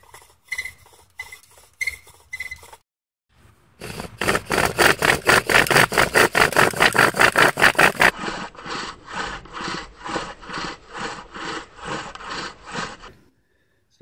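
A bow drill spinning a spindle into a fireboard for friction fire, giving steady rhythmic back-and-forth rasping strokes, close and loud, first fast and bright, then slower and duller after a few short tentative strokes.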